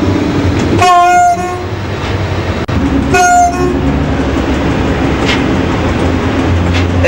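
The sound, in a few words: train horn signal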